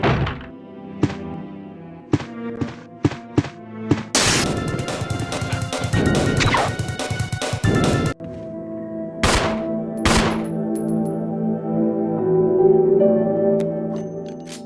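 Dogs crashing through windows in a survival horror video game: a run of sharp thuds, then a long loud burst of shattering glass and smashing, followed by further heavy crashes and thumps, with no voices.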